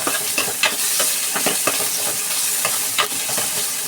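Ginger stir-fries in a hot pan, giving a steady, close sizzle broken by scraping and clacking strokes as it is tossed and stirred, with no talking.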